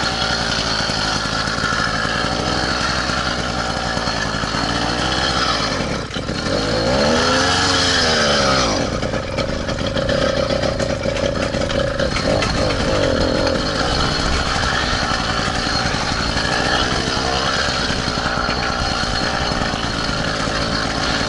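A small engine on a homemade all-terrain bike runs steadily, a loud buzzing close by, dipping and swelling once midway as the revs change.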